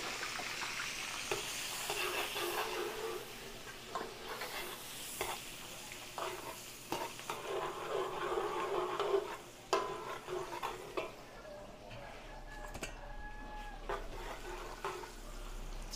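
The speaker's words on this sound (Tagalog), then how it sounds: "Gigisa tayo ng bawang." Garlic sautéing in margarine in a frying pan, a steady close sizzle with repeated stirring scrapes of a utensil and a faint meow in the background, no talk.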